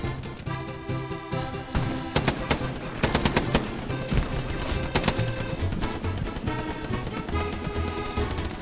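Machine gun fire in the Hell Let Loose World War II shooter, rapid bursts of automatic shots mixed with other gunfire and battle noise, loud and busy throughout.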